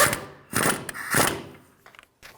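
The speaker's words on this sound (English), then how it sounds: "Snug down the nut." A castle nut being snugged down on a Toyota Tacoma outer tie rod, heard as three close bursts of metallic ratcheting and clicking separated by short pauses, ending in a couple of faint taps.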